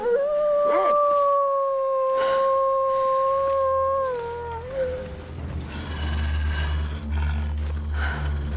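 Wolves howl in the survival game The Long Dark near a gas station, with long drawn-out wavering howls overlapping loudly for several seconds before fading into lower wind and ambience.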